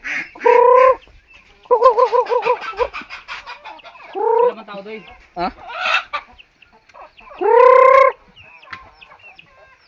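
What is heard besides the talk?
chickens clucking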